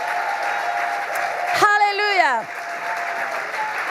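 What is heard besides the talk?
congregation applauding in church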